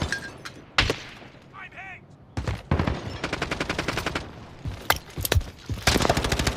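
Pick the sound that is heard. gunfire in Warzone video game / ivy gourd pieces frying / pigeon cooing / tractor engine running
gunfire in Warzone video game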